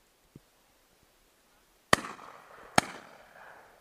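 Two sharp shotgun blasts at a driven partridge shoot in Wiltshire, close and loud, the first about a second before the second, each trailing a short echoing rumble across open ground.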